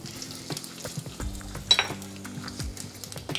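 Mustard seeds, cumin, urad dal and dry chilies fry in hot oil, a close crackling sizzle with sharp pops and occasional clinks of a utensil against the pan.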